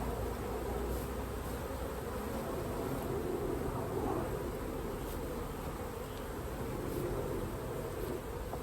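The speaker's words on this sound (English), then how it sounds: "So I'm going to shake the bees off of it" A dense, steady buzzing of many honey bees swarming close by as they are shaken off a hive frame, continuous and unbroken throughout.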